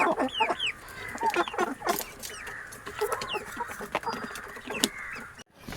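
Native backyard chickens cluck and squawk continuously in a busy flock, several birds overlapping close by with sharp rising calls and occasional louder outbursts.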